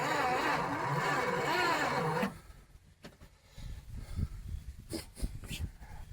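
The engine of a 1976 Dodge Dart barn find, one spark plug still out and the fuel line unhooked, cranks in a loud continuous churning whirr for about two seconds, then cuts off, leaving quieter rustling and a few thumps.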